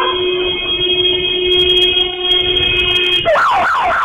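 A neighbourhood alarm siren sounds loudly in the street, holding a steady electronic tone before switching to a rising and falling wail near the end.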